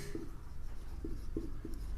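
Writing on paper or a board during a maths lesson on areas of circle sectors, with soft strokes and taps recurring through a steady background hum and no talk.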